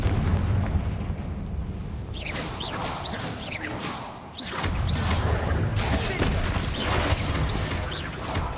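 Spell blasts from the Confringo fire spell in Hogwarts Legacy combat boom loudly and repeatedly against a dense battle din, with a brief dip midway before the explosive noise resumes.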